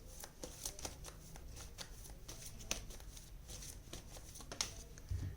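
Tarot cards slide and riffle against the deck as they are drawn, with soft papery flicks and a few sharper snaps, close and quiet, continuous through the stretch without talk.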